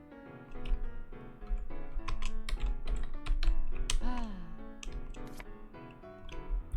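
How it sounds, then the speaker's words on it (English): Typing on a computer keyboard, quick irregular key clicks in short bursts, close and fairly faint, mixed with game sounds and a voice. "Let's try typing it in."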